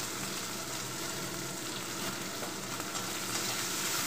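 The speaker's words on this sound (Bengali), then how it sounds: "এবার দিয়ে দেবো কেটে রাখা পেঁয়াজ" Chopped onions frying in hot oil with panch phoron, a steady, dense sizzle running unbroken and fairly close, with no voices.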